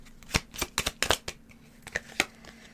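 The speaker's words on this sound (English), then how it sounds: "Okay, let me pull some more cards." Tarot cards being shuffled up close, a series of crisp papery riffles and slaps in uneven bursts, fairly quiet and with no one speaking.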